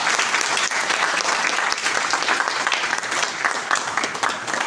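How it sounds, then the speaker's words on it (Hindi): Loud, sustained applause from a large crowd, dense and continuous throughout with no voices standing out. "जोरदार ताली एक बार इस पॉइंट के लिए,"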